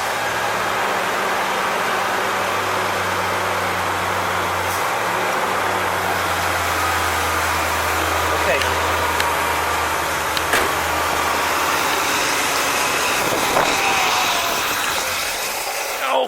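A rebuilt 1964 Pontiac 389 V8 idles steadily with a low, continuous rumble; the engine sound holds throughout with a slight rise in intensity toward the end, and no talking is heard.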